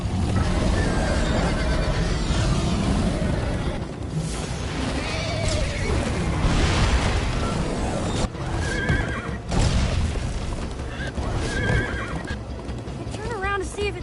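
Hooves pound and a horse whinnies repeatedly in Minecraft: Story Mode during a fast chase, loud and close with a steady galloping rumble, broken by a few sharp crashes, while voices talk over parts of it.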